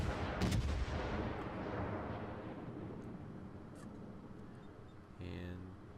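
A Pensacola cruiser in World of Warships fires a salvo of HE shells: a sharp booming burst at the start fading into a long rumbling tail, with a second distant report near the end, fairly quiet overall.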